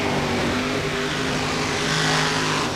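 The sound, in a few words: Gravedigger monster truck engine during its run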